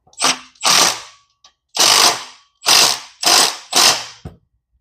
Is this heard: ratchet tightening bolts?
yes